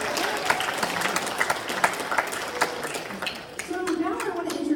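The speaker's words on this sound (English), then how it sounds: "Give a round of applause for Port San Antonio." Audience applause fills a conference keynote hall after the new SAMSAT Museum at Port San Antonio is introduced, a dense steady clapping that carries on for several seconds and fades slightly near the end as a voice begins over it.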